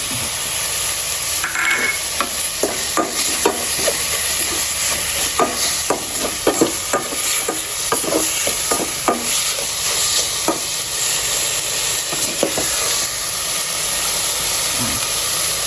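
Chicken and pickled bamboo shoot curry being stirred in a pot right after broth is added, with steady close sizzling and a run of repeated utensil scrapes and taps against the pan.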